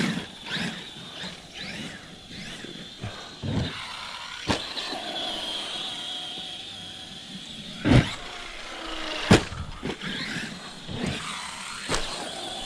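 Electric RC car with gear issues being driven in a front yard: a whining motor rising and falling in bursts, broken by sharp clicks and knocks from the drivetrain, close and without speech.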